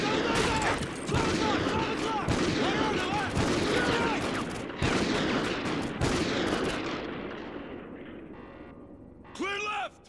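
Dense bursts of gunfire crackle through a room breach in the Call of Duty Ghosts mission Struck Down, loud and continuous at first, then thinning out, with shouted voices mixed in and a short ringing burst near the end.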